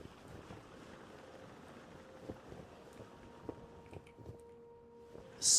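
Sailing ship gliding across open sea in the video game Forgotten Seas, a steady low wash of water and wind with soft creaks and faint tonal hums, ending in a brief loud burst.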